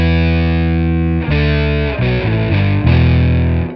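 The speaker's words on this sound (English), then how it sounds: "I use this pedal to create power chords with the fake guitar sound" Bass guitar through a Boss PS6 Harmonist pedal, its added fifth producing thick, distorted power-chord tones; a long sustained chord is followed by several shorter chord changes, loud and continuous with no talking.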